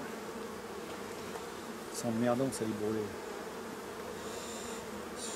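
Honeybees buzzing steadily around a beehive frame during a hive inspection, a continuous close drone with someone speaking briefly over it.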